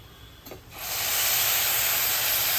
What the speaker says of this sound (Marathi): आता ह्याच्यामध्ये आपल्याला उकळतं पाणी घालायचं आहे